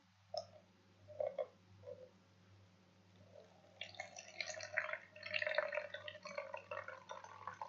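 Water tinted with food coloring is poured into a cup, starting with a few faint drips and clinks, then building into a steady, close trickle as the cup fills in a quiet room.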